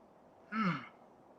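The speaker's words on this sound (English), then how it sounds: "I always yawn when I'm doing this" A single person's yawn, a short breathy voiced swell lasting under half a second and rising then falling, heard close and alone against faint room noise.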